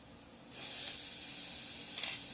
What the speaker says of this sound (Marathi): आपण थोडंसं फ्राय करूया आणि आता ह्याच्यामध्ये ना आपण टॉमॅटो टाकून घेऊया